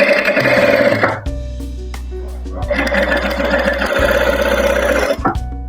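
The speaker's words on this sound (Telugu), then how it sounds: "టర్న్ చేసి ఎడ్జ్ కార్నర్ స్టిచ్ చేయాలండి." A sewing machine runs close up while stitching the edge corner of a blouse sleeve, two loud steady whirring bursts separated by a brief pause.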